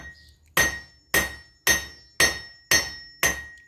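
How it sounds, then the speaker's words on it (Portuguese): A metal piece for a frying pan handle is hammered flat. Six sharp, ringing metallic blows land in a steady rhythm about every half second, each leaving a bright, clinking ring, close and clear, with no talk. "batendo isso aí, então, pra achatar"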